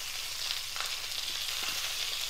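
Fish wrapped in banana leaf roasts on a pan over a medium flame, giving a soft, steady sizzle and crackle that holds at an even low level throughout, with a few faint knocks and no talking.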